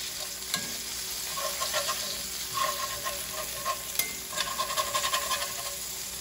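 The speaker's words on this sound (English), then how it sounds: "So I flip the tuna." Tuna sizzles steadily in a hot cast iron pan, a continuous close frying hiss with scattered pops and scraping stir sounds as the fish is flipped, and no talking.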